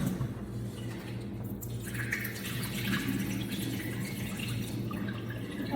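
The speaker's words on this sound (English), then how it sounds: "So now I'm washing the peas." Dried peas washed in water in a home kitchen, a steady running, splashing wash with faint dripping, continuous and fairly close, with no voices.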